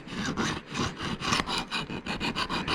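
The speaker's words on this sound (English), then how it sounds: "we're just going to run the file" A hand file dragged along the blade of blunt garden cutters: steady, close rasping strokes in a regular rhythm, with no talk.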